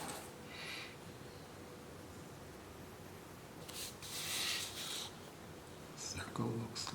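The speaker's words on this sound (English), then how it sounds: "draw our circle." A pencil sweeps around a circle on paper for an engineering drawing, soft scratchy strokes coming in short bursts, faint and close, with quiet pauses in between.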